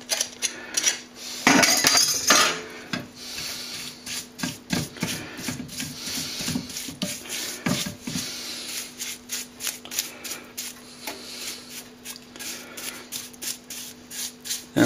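Scraper taking old green kalsomine paint off a plaster cornice, close irregular scratchy strokes and taps in quick bursts, fading to lighter scraping later.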